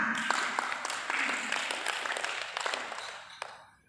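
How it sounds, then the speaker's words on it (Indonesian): Applause from an audience at a welcoming speech, a fairly faint, steady patter of many hands with a few sharper claps, gradually thinning toward the end. "Tepuk tangan."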